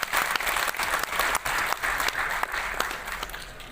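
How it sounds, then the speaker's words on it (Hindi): Loud welcoming applause from an audience at a public ceremony, dense clapping with sharp individual claps standing out, sustained and close, with no speech over it. "जोरदार तालियों के साथ स्वागत"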